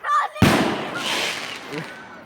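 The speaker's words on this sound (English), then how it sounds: "And yes, there are fireworks." Fireworks go off outdoors at night in dark woods. One loud, close burst hits sharply, then a long crackling tail fades slowly, with a few fainter pops after it.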